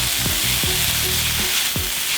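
Garlic, pepper and salt frying in a pan ahead of mushrooms, an even loud sizzle broken by a few quick utensil taps and stirs, no speech.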